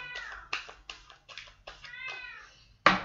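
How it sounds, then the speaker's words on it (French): A house cat meows in a quick run of about seven close, clear calls, each short and rising, with brief gaps between them and a sharper final cry. "J'ai mon chat qui miaule."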